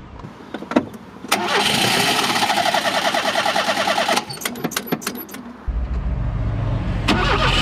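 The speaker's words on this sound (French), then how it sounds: "j'ai pas résisté à la tentation d'essayer de le démarrer" An Alfa Romeo 33 engine with a weak battery is cranked repeatedly, giving a loud sustained whirring starter churn between sharp clicks, then a lower steady drone as it nearly fires.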